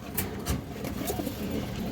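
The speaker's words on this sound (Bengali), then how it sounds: "3 পট্টি লাল গিয়ারের পুতুল গররা মাদি কবুতর" Female Gola pigeons with red eyes coo nearby, low soft murmuring over a busy background with faint clicks and rustles.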